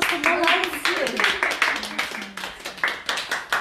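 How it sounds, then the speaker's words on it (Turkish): Scattered hand clapping rises briefly under overlapping voices, a small group applauding close by. "Alkış, lütfen alkış."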